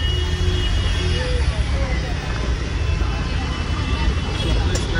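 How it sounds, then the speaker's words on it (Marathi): Dense road traffic on a Mumbai street near Dadar, a steady close rumble of engines and passing vehicles with faint horns throughout, people talking over it. "बहुतेक मेट्रोमुळे असावा ट्रॅफिक"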